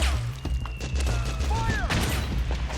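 Battlefield gunfire in Metal Gear Solid 4, a dense fusillade of overlapping shots and booms under shouted voices, steady and loud throughout.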